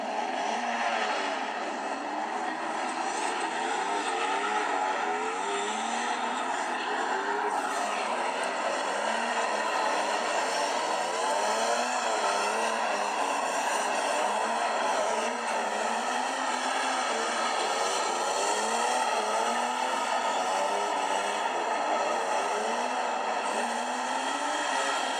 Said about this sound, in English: Oh, smoking tyres.